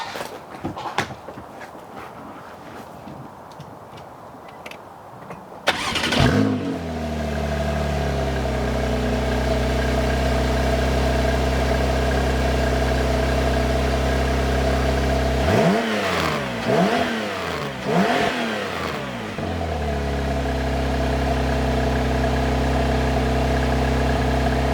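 Porsche 911 of the 991 generation starting up with a loud crank and catch, then settling to a steady, rumbling idle, punctuated around the middle by several sharp revs before returning to idle; no talking.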